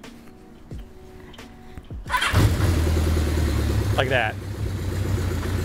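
A cold Honda CB350F four-cylinder motorcycle on full choke cranks briefly with a starter whir, then catches and settles into a loud, steady idle, someone speaking over it.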